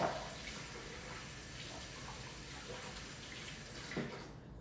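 Water runs steadily from a tap into a container in a kitchen while beets are being prepared, a continuous close hiss that holds evenly for several seconds before easing off, with no one speaking.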